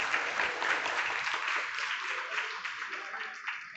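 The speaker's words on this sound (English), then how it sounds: "Let's give a big round of applause for today's panelists." An audience at an ASEAN community town hall gives the panelists a long round of applause, many hands clapping in a steady, fairly distant roar with faint voices underneath.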